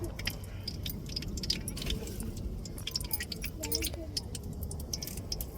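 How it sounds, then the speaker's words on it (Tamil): Mustard seeds spluttering in hot oil during tempering, a dense steady crackle of tiny pops and sizzle close by, with a voice talking over it. "கடுகு நல்லா பொரியட்டும்"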